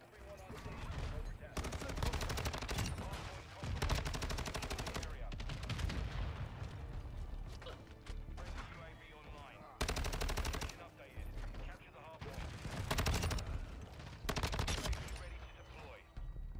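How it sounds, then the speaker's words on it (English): HCR 56 light machine gun firing in the video game Modern Warfare 2, loud sustained automatic bursts separated by short pauses, with heavy, dense gunfire throughout. "Come on, shoot your gun."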